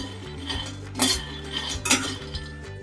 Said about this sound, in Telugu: పలుకులను అయితే బాగా వేపుకోవాలండి, పలుకుల పైన పొట్టంతా ఊడిపోయే వరకు.